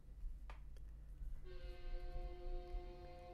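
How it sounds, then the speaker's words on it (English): A train sounding a loud multi-tone horn, the steady chord coming in partway through and holding to the end over a low continuous rumble, with no talk. "And the train, baby."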